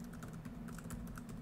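Light keystrokes on a computer keyboard while entering a line of game script code, a quiet, steady run of soft taps with no voice over them.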